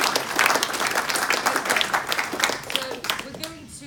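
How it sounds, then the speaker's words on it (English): An audience gives a round of applause at an event marking the centenary of the 1919 race riots, dense close clapping that thins toward the end while a voice is heard under it. "can I have a round of applause for"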